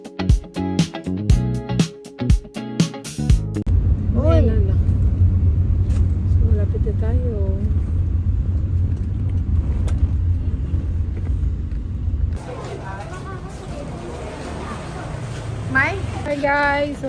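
A car travels downhill along a twisting mountain road during a family trip in the Philippines. The engine and road rumble stay steady and close throughout, with people talking over it.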